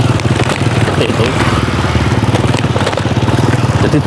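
A tractor engine chugs with a steady pulsing throb as it hauls through a flooded rice paddy during planting in a Javanese village, fairly close and loud, with faint voices in the background.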